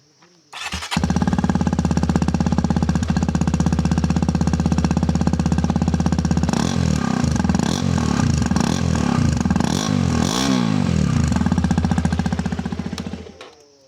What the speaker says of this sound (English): This is the stock silencer. I haven't done any modification on the exhaust note.